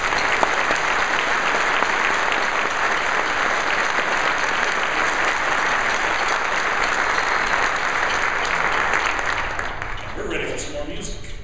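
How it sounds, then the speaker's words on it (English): Sustained, loud applause fills a middle school honor band concert hall, many hands clapping evenly for several seconds before thinning slightly near the end, with faint voices beneath. "Let's give him a round of applause."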